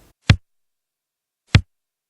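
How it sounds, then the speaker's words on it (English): Two deep, punchy 80s-style kick drum hits, evenly spaced about a second apart, each with a short boomy tail and clean silence between. "There's an 80s style kick, which sounds like this"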